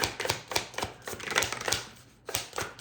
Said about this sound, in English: going to get these cards shuffled